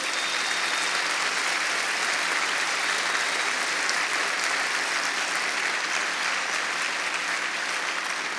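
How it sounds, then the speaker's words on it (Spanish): A church congregation applauds at length with dense, continuous clapping that holds steady and fairly loud throughout, with no voices standing out. "Le damos un fuerte aplauso"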